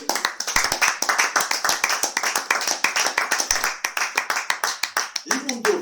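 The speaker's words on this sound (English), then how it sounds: "We can clap for her" A church congregation at a Sunday service claps together in a fast, steady rhythm of sharp, close claps that fill the room, ending just before a voice comes in.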